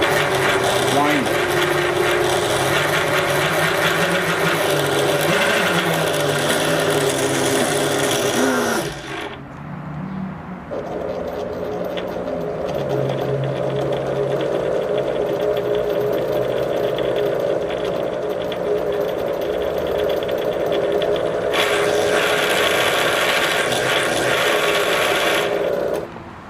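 A Singer 6136 sewing machine winds a bobbin with a loud, continuous motor whir. A brief dip partway through changes the pitch before the drone resumes at full strength.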